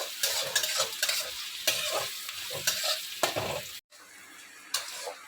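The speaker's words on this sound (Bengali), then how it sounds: "পেঁয়াজ কুচিটা একটু ফ্রাই করতে হবে।" Chopped onions frying in a pan for dal fry, with repeated loud scraping stirs over a crackling sizzle, close and rhythmic, then a brief gap and a quieter sizzle with one more stir.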